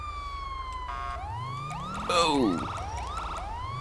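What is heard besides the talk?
police car siren in a video game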